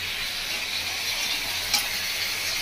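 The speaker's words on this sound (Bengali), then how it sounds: "আদা রসুন বাটা দিয়ে ভালো করে কষিয়ে নেবো।" Ginger-garlic paste fries with mutton masala in a steady, bright hiss of sizzling, close and continuous, with one brief scrape partway through.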